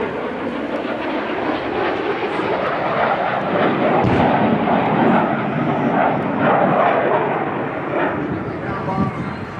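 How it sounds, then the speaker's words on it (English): An A-37 Dragonfly jet roars through a steep 45-degree bombing attack run at an airshow, a loud, continuous broadband engine rush that swells and holds throughout, with a commentator talking over it. "Watch the steep 45-degree angle bombing attack run that Mark does"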